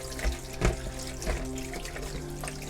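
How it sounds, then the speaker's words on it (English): Sea crabs are scrubbed under a running tap, a steady stream of water splashing close by with periodic rubbing and knocking accents, no voices. "Give them a proper scrub."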